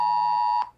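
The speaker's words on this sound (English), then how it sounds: "your mobile device will make a loud siren sound like this." A UK emergency alert tone sounds from a mobile phone, a loud, steady, piercing electronic siren note held for most of the moment before it cuts off abruptly.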